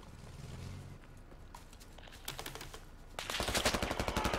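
Video game gunfire aimed at a BTR turret: rapid bursts of automatic shots that build to a dense, fast rattle toward the end, fairly close and moderately loud, with a brief low rumble earlier.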